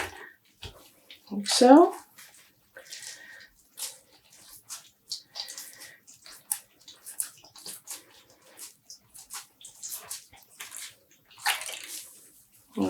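Home-dyed yarn is dunked a few times into water, giving brief sloshes and splashes, loudest at the start, with intermittent drips among quiet talk.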